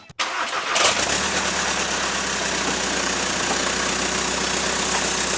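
A diesel engine in an MK6 Volkswagen Passat TDI cranks briefly and catches, then settles straight into a steady, loud idle with a rough, clattering drone that holds for several seconds with no talking.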